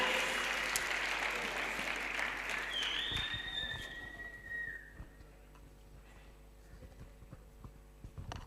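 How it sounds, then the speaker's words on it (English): An audience at a youth event breaks into loud applause with whistles cutting through, the clapping fading after about four seconds into scattered claps and quiet room noise. "please give them a round of applause"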